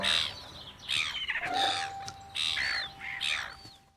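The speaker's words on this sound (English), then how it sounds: "Hello there, seagulls." Seagulls call in a run of loud, squealing cries, four or five bursts in quick succession, close and clear with no talking over them.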